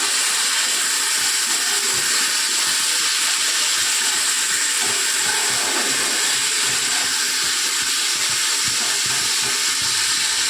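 Onions and a large tomato fry in a pan, giving a steady loud sizzle and hiss that runs unbroken for the whole stretch, with no voice over it.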